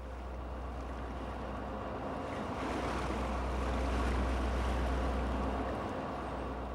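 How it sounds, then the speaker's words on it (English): A steady research boat engine drones over wind and water wash along a drift line where shrimp boats work, loud and continuous throughout with no voices. "There are other vessels apart from the research boat working along this drift line."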